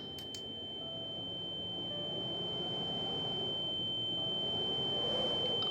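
A steady electronic alarm beeps continuously in a video game, a single high pure tone held without break from start to finish over a low rumbling background and a couple of brief clicks near the start.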